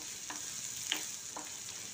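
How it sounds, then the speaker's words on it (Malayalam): Shallots being sautéed in hot oil with mustard seeds, dried chillies and curry leaves give a steady, even sizzle, with a few soft stirring scrapes on top. "കടുക്, വറ്റൽമുളക്, കറിവേപ്പിലയൊക്കെ കൂടി വറുത്തെടുത്തിട്ട് കുറച്ച് ചുവന്ന ഉള്ളി, ചെറിയ ഉള്ളിയും കൂടി നന്നായിട്ട് ഒന്ന് വഴറ്റി കൊടുക്കുകയാണ്"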